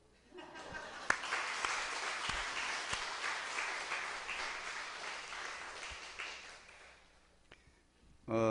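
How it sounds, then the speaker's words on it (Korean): Congregation in a church service applauding together, a sustained dense wash of clapping for about seven seconds that fades out, with a voice starting up at the very end. "매주일 빠지지 않고 나온 분들을 위해서 박수."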